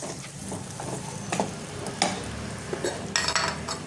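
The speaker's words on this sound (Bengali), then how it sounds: "এবার এটা আমি ভালো করে কষিয়ে নেবো" Ground turmeric, cumin, chilli, coriander and garam masala fry in a pan for potato curry, a continuous sizzle broken by repeated scraping and clinking stirs of a spoon, close and busy.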